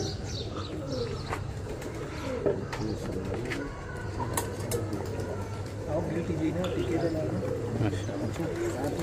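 Pigeons cooing in a loft during hot weather, their soft low coos repeating steadily through a constant room noise while someone talks over them throughout.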